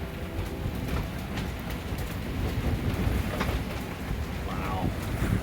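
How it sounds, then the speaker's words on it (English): Rain and distant thunder roll over a sailboat during a storm at sea, a dense steady wash of rain and wind with low rumbling beneath, lightly mixed with background voices. "You can hear the thunder in the background."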